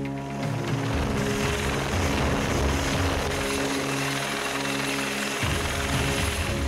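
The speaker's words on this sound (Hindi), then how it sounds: "इसके लिए उन्होंने एक हेलीकॉप्टर की मदद ली" An Indian Coast Guard rescue helicopter during a cyclone rescue at sea gives a loud, steady rotor roar and whine close by, with a shift in the low throb near the end.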